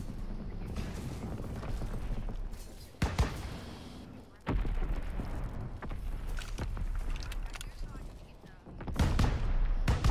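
Gunfire in a one-on-one video game match comes in sharp bursts and separate loud cracks spread across the stretch, some close and heavy, set among game ambience.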